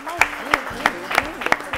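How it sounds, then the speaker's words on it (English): An audience at a school quiz competition claps, a handful of sharp, evenly spaced hand claps close by with a voice talking over them. "Let's clap for them"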